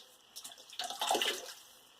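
Water splashes in brief bursts as a face is wetted at a sink partway through a wet shave with soap lather, close and fairly quiet, with no talking.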